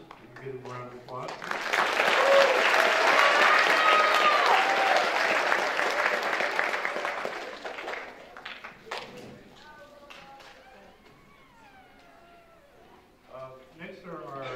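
An audience at a high school band concert breaks into a swell of applause that peaks and fades, followed by a quieter stretch with a voice speaking over scattered sounds.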